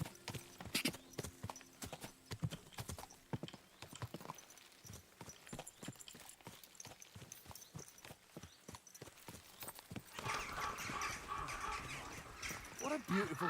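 Horse hooves clip-clop steadily across the ground in a video game, a brisk, even rhythm held close and loud throughout, with crows cawing now and then in the background.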